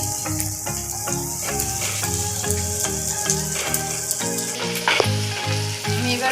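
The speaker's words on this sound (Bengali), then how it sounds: "কষিয়ে নেব মশলাগুলো যাতে ভালো মতো ঢুকে যায় মাছে।" Spices and prawns sautéing in a pan, a steady sizzle running under music with tonal notes throughout.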